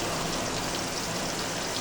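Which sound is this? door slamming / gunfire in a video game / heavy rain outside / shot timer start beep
heavy rain outside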